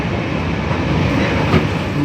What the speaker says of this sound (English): this is how train enters Sialda station